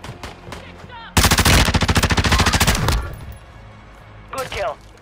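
Automatic gunfire in the battle royale shooter Warzone 2, a loud, close, rapid stream of evenly spaced shots lasting nearly two seconds, followed by a shorter burst after a pause, with voices in the background.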